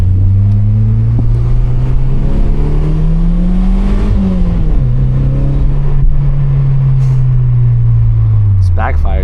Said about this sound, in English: It's backfires, bro.